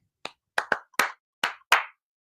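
Six sharp hand claps in an uneven, tune-like rhythm, close and distinct, with silence between them and no talking.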